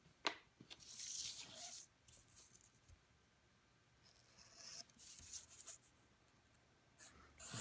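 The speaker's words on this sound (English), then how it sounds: "you can see my knife is just riding along the raised edge of that Bristol" Craft knife scoring Bristol board for model platforms, heard as soft, quiet scratchy strokes in separate passes of a second or so each, with a sharp click near the start and short crisp bursts toward the end.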